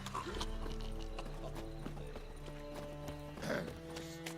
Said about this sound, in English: Bueno, un caballo, un caballo.